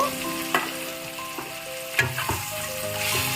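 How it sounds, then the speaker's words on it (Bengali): Sliced onions with a spoonful of sugar sizzle loudly in hot oil while a spatula stirs them, with steady frying hiss and a few scraping strokes, close and continuous beneath a low musical tone. "দিয়ে দিলাম ছোট চামচের 1 চামচ চিনি, 3টে পেঁয়াজ লম্বা লম্বা করে কেটে নিয়েছি, এবারে মিশিয়ে নেব"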